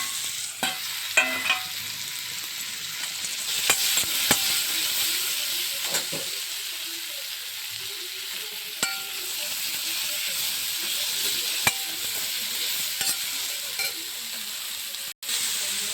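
Washed mushrooms frying in a pan with a little garlic paste, a steady close sizzling hiss broken by light scrapes and clicks of stirring, with no talking.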